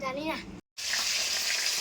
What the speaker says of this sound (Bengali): এখনও কিন্তু এদিকে মাছ ভাজা চলছেই